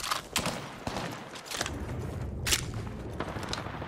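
Video game gunfire in scattered bursts and single sharp shots, with booming impacts and a loud crack near the middle. It carries over a busy, rumbling background.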